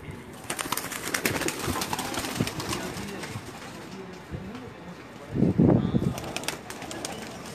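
Teddy pigeons kept by a Pakistani fancier coo in low, soft bursts, with a louder cluster of calls near the end over steady outdoor background noise.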